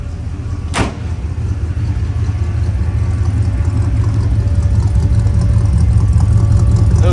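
A 1958 Oldsmobile Super 88 V8 idles through chrome MagnaFlow exhaust tips, a steady low rumble close up after a brief clunk near the start, with no talking.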